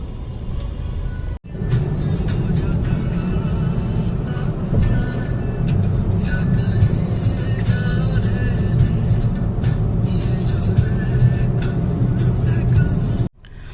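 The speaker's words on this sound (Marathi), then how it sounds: "खूप ट्रॅफिक जाम आहे." Heavy traffic jam on the road toward New Panvel, heard from inside a car: a steady low engine and road rumble holds throughout, with faint sounds of surrounding vehicles and no clear voices.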